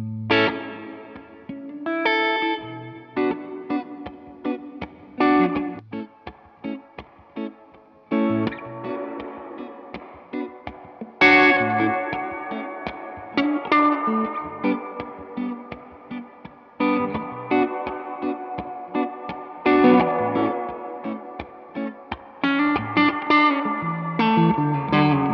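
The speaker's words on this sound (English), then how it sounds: "it like carves out a lot of lows and highs and kind of gives you an, really an trippy, AM radio sound" Guitar played through a Walrus Audio lo-fi pedal, thinned of lows and highs into a trippy AM-radio tone with a slight pitch dip, strummed chords and plucked notes coming in bursts, loud and alone.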